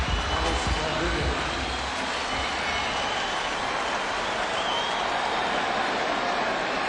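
Baseball stadium crowd at a 2007 White Sox game cheering for Alex Rodriguez, a loud, steady roar filling the park throughout without letting up.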